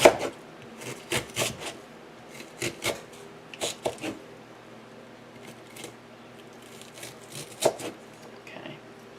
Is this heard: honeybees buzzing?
no